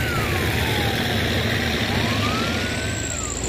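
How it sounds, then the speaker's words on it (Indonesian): An ambulance siren wails past on a busy road with traffic, its rising and falling tone sweeping slowly over a loud, steady roar of trucks and other vehicles. "Ada ambulan."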